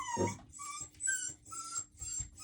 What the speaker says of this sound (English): I'm working on 2 dogs, and the one crying currently.